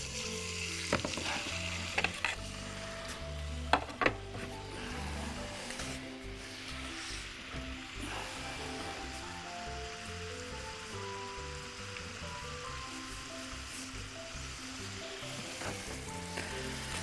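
Chicken fries in a pan with a steady, crackling sizzle that runs throughout, joined by a few louder pops and clinks of utensils early on. The frying is fairly quiet and close, with no talking.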